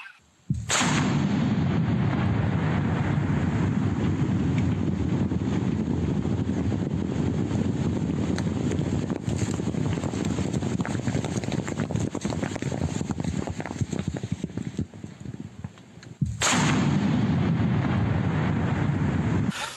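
A long, heavy roar fills nearly the whole stretch, like a big blast rumbling and echoing, then stops abruptly before a brief second burst.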